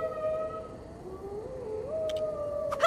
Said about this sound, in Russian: Кто там воет, блин?